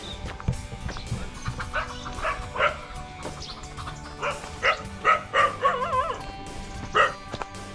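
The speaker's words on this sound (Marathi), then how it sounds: "चारही बाजूने मस्त वेगळी कुत्री भुगतात" Several dogs bark repeatedly from different distances on a forest trek near Tandulwadi Fort, Palghar, some close and loud, others fainter, with a few higher yips among them.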